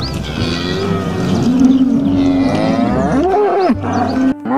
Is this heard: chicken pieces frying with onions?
no